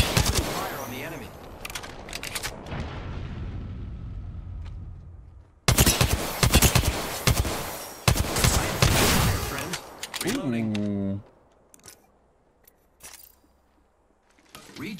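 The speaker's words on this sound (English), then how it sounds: "Shots fired at me." Apex Legends gunfire, with repeated bursts of rapid automatic shots in loud clusters separated by short pauses, followed by electronic charging tones, with some talk in places.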